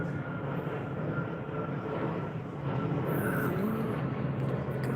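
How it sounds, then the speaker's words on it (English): A Boeing Dreamliner airliner passes overhead in London, its steady broadband engine roar holding at a constant loud level for several seconds, with no talk. "I think it's probably another Dreamliner."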